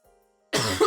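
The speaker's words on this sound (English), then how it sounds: "Sorry, I don't know why I'm coughing." A single sharp cough bursts out after a moment of near silence, close and loud, with a rough throaty tail.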